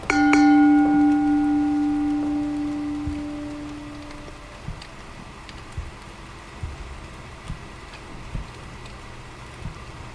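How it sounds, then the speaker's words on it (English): A single loud bell struck in a video game, ringing out with a long sustained tone that slowly decays over several seconds, then fades into a quiet ambient background with faint scattered ticks. "And we should have a second bell."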